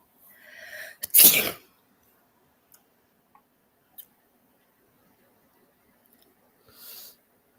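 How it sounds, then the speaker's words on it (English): A single sharp sneeze, preceded by a brief inhaling build-up, then a few faint clicks and a soft breath afterward. "I have to sneeze."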